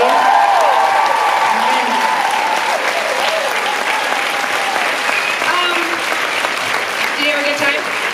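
A loud concert crowd at the Rockefeller in Oslo applauds and cheers the drummer during the band introductions, steady clapping and whoops sustained throughout with no break.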